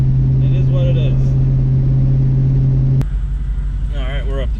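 A New Edge Ford Mustang fitted with a DNA Motoring cat-back exhaust idles up close with a loud, steady low rumble and a brief shift in tone partway, while a voice speaks briefly over it.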